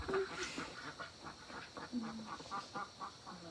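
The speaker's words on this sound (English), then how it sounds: "the duckies are celebrating life this morning" Ducks quacking in the morning near their pool, a faint, distant run of repeated quacks under quiet background sound.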